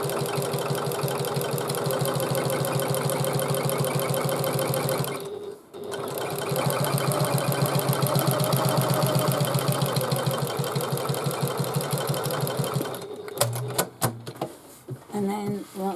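A sewing machine runs steadily, stitching up the seam of an Antonella bag, pausing briefly partway and then resuming, before ending with a few short clattering bursts and knocks.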